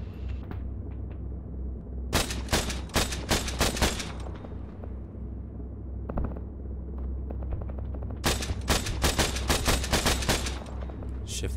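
AAV gunner's machine gun firing during amphibious assault training, sharp bursts of rapid shots in two main clusters over a constant heavy engine rumble, with scattered single reports in between.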